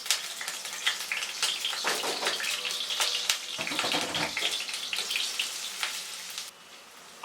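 Chopped garlic and ginger frying in oil over medium heat, a dense crackling sizzle with frequent sharp spatters that stays loud and close before dropping away abruptly near the end.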